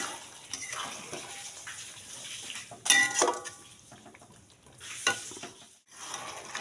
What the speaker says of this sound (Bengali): মাংসটা বেশ নাড়া হয়ে গেছে